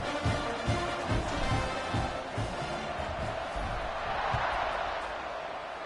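A stadium crowd roars in a college football video game as the kickoff approaches, with a continuous wash of cheering and rhythmic booming thumps, loud and unbroken across the stretch.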